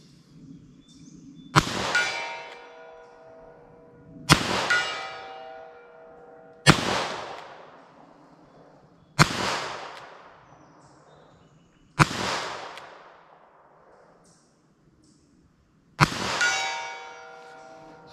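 Six sharp, loud gunshots from a .38 Super pistol fired outdoors without hearing protection, spaced a few seconds apart, each a hard crack with a ringing metallic tail that decays over a couple of seconds.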